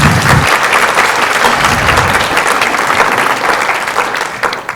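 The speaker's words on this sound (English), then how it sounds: "So round of applause for all of you." Loud, sustained applause from a large audience, a dense crackle of clapping that carries on steadily and tapers slightly at the end.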